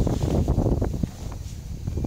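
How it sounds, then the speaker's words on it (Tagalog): Sea wind gusts buffet the microphone at a campsite in a low, blustery rumble, steady and close, with no voices present. "ayan yung hangin ba sa dagat papunta dito sa loob"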